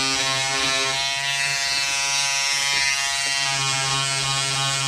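A Wahl Peanut electric shaver buzzes steadily and loudly as it shaves out embroidery stitches, its motor hum held at a constant pitch with slight load changes as it scrapes the fabric.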